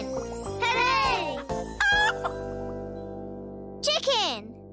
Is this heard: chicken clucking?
yes